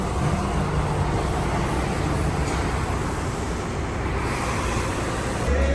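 A Jeep drives to the tire shop, a steady road and engine rumble with broad tire noise heard from inside the vehicle, even and continuous, with no one talking.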